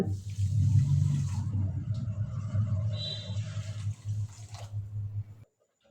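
Water is poured from a cup onto sugar in a pot to make syrup for raw mango rosogolla, a close, gurgling pour lasting about five seconds before it stops abruptly into silence.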